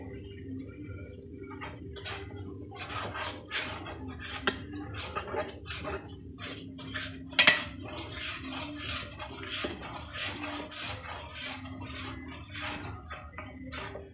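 A spoon scrapes and clinks around a pot of teal and deer sausage gumbo vegetables, a slow run of light taps and scrapes over a faint low simmer, with one sharper knock near the middle and no voices.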